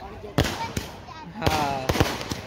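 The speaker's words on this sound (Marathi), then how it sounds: "फटाके वगैरे फुटतात ते" Several sharp firecracker bursts crack at irregular intervals, loud and close, with crackling in between and a voice briefly audible.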